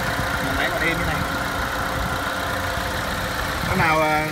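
A used Ford Escape sits idling with its air conditioning running, a steady, even engine hum throughout with a brief voice or noise burst near the end.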